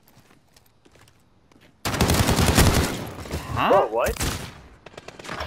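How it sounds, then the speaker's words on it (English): Gunfire erupts suddenly in Call of Duty: Modern Warfare, a loud, close burst of rapid shotgun blasts that fades into the game din while a player exclaims in surprise. "I just dumped three shotgun shells into him"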